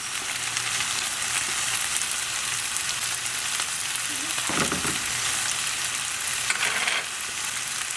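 Tofu fried rice sizzling hard in a hot pan as soy sauce and oyster sauce hit it, a steady loud frying hiss with a couple of brief stirring scrapes partway through.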